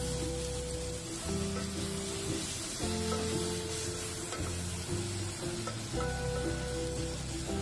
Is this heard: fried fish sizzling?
yes